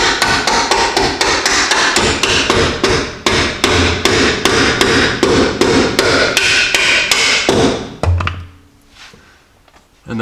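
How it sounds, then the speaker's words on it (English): Hammer blows drive a bolt into a Jeep lower control arm, a fast run of sharp metallic strikes close up, briefly pausing mid-way, then stopping near the end as the clatter gives way to quiet shop noise. "I'm going to have to hammer this in."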